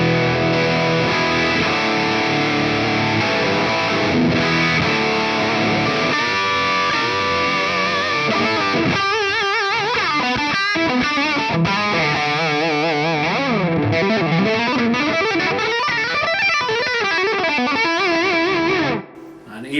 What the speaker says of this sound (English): we can get into some really kind of sludgy fuzz style